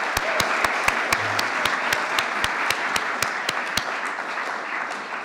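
A crowd applauds at the Te Whatu Kairangi 2023 awards. Steady massed clapping is punctuated by one sharp, evenly spaced nearby clapper that stops before the end.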